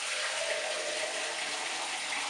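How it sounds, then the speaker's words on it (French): Water is poured over spaghetti in a Cookeo electric multicooker pot, a steady, close, continuous gushing pour running for the whole stretch with no talk. "ce que je vais faire, c'est que je vais recouvrir d'eau"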